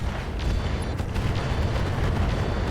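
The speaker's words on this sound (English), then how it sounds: "Here comes another airstrike. Enemy airstrike." Booming airstrike explosions in the RogueTech mech video game, a continuous heavy rumbling barrage of blasts that stays loud for the whole stretch, with no talking over it.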